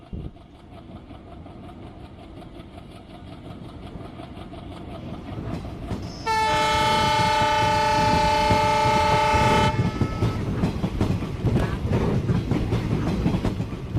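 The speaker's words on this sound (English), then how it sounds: "Enjoy the beautiful view in which train is crossing on the bridge." A train rumbles past at close range, its horn blaring a long, steady chord midway before the rolling clatter of wheels continues.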